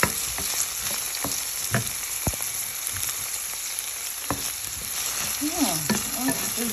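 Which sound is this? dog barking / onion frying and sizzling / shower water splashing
onion frying and sizzling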